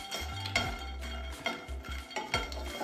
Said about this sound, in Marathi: तर ह्याच पॅन मध्ये आपण मखाणे भाजून घेऊया